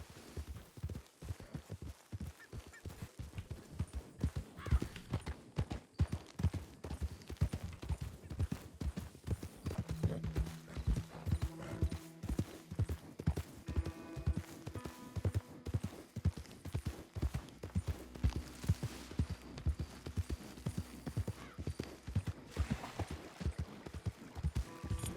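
Horse hooves clip-clop in Red Dead Redemption 2, a steady rhythmic trot of hard hoofbeats at moderate volume, continuing evenly throughout with faint background game sounds.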